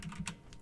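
A few quick keystrokes tapped on a computer keyboard while entering router commands, soft, close clicks in a short, uneven burst.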